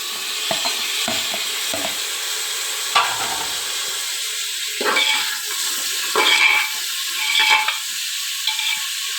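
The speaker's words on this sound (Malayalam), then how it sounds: "ഇനി ഇത് 1 മിനിറ്റ് ഒന്ന് വഴറ്റിയെടുക്കുക." Onion, carrot and potato with curry leaves sizzle gently in a pan while being sautéed, a steady frying hiss broken by occasional scrapes and clinks of a spoon stirring, heard close with no voices.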